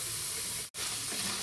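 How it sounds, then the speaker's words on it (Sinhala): Potatoes frying in oil in a pan, giving a dense, steady sizzle that is briefly cut off in the middle before resuming at the same level, with no talking. "අල ටික තරමක් බැදෙනකොට"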